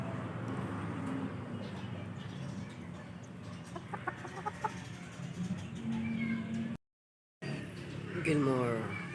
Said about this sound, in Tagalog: Ang bagong pisa